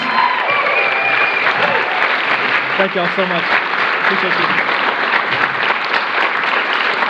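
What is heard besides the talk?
round of applause for representatives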